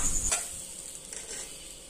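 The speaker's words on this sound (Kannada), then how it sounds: "ಅದೇ ಬಾಣಲೆಗೆ ಹಾಕಿ ಸ್ವಲ್ಪ ತೆಂಗಿನಕಾಯಿಯನ್ನು ಕೂಡ ಫ್ರೈ ಮಾಡಿಕೊಳ್ಳಬೇಕು" Grated coconut frying in a pan for chicken dry sukka, a close, steady sizzle with a brief scraping stir near the start, no voices.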